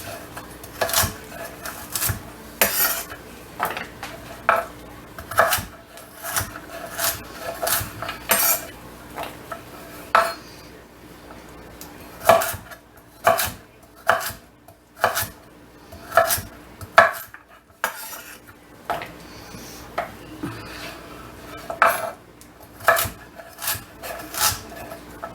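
A knife chops vegetables on a cutting board for homemade chicken soup, a run of crisp, evenly spaced clacks close by with a brief pause midway, then more steady chopping, no speech.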